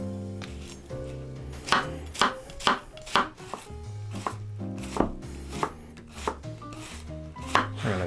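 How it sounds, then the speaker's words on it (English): Rapid knife strokes on a cutting board as an onion is minced for a Korean-inspired vegan sloppy joe, a steady run of close, crisp chops over soft background music. "We're gonna mince an onion."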